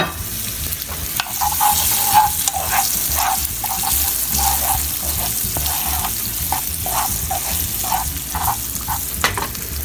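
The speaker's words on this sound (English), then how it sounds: "Then just fry it till it starts to get a little golden. Toss in your onions." Onions frying in a pan with a dense, loud sizzle, while a utensil scrapes and stirs them in a rhythmic series of strokes, close up and without talk.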